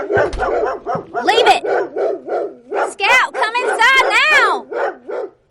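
Dogs bark repeatedly and close by, with some yips and whimpers, while a person speaks commands over them.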